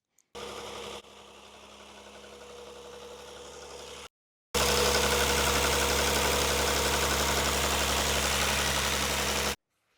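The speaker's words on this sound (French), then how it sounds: "Donc je vais démarrer la voiture." A Rover 75 engine cranks briefly and catches, then settles into a steady close, loud idle with an even mechanical hum after a short gap, no voices present.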